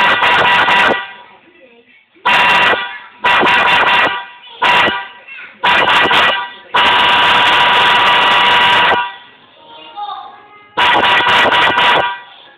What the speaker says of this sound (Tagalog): Yan ang Bosch na snail horn.